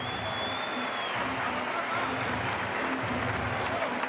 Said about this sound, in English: A standing ovation from the crowd here, and rightly so.